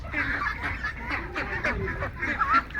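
Belgian hybrid ducks about one and a half months old quack and honk on a farm, a busy flock calling in overlapping bursts at moderate distance.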